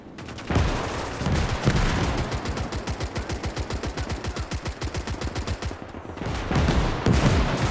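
Sustained machine-gun fire in the WWII game Gates of Hell, rapid evenly spaced bursts that roll on for several seconds, with heavier mixed shooting and explosions at the start and end.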